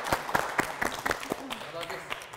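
Sparse audience clapping in a TV game-show studio, a handful of distinct claps spaced irregularly, fairly close and moderately faint, with light voices in the background.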